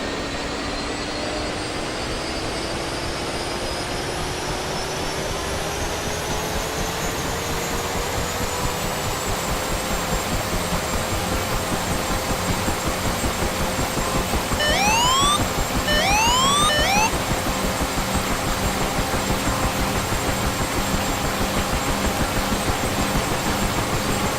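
In the DCS flight simulator, a UH-1 Huey helicopter's turbine whine rises in pitch as the rotor spins up and settles into a loud, continuous engine drone, with a few brief electronic chirps near the middle.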